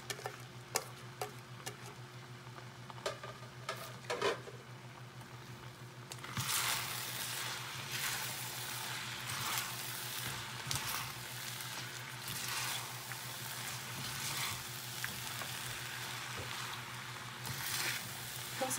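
Vegetables and green onions hit a hot pan for seafood sotanghon. After a quiet stretch of faint ticks, a loud, steady sizzle bursts in and keeps going, with occasional stirring scrapes.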